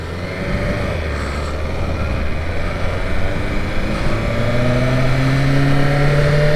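A 2023 BMW S1000RR motorcycle engine warming up, a steady loud nearby idle with a droning hum whose pitch climbs gradually, heard alone without speech.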